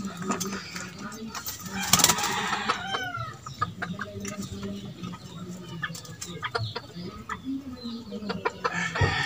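Chickens cluck steadily inside a coop, with one louder flurry of squawking near the start and a faint crow, plus soft voices murmuring underneath.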